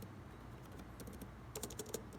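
Keys clicking on a Logitech Slim Folio Pro backlit keyboard for an iPad Pro 11-inch, a quick run of light, crisp taps near the close mic, faint at first and then a denser burst toward the end.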